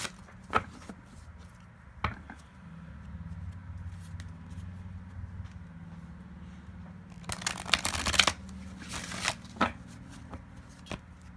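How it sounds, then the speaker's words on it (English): Tarot cards are shuffled up close, with sparse taps and flicks early on, then a dense riffling burst in the middle, followed by a few more light card snaps. "I'll give them a quick thorough shuffle"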